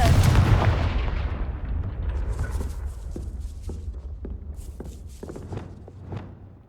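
In the Hogwarts Legacy game, a Confringo spell lands with a heavy booming blast that rolls off into a long rumble, followed by scattered lighter impacts and footsteps.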